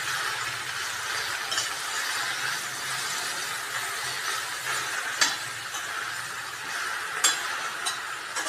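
Gongura rice being stirred in a pan makes a steady, moderately loud scraping hiss throughout, with a couple of brief sharper clicks from the spoon hitting the vessel.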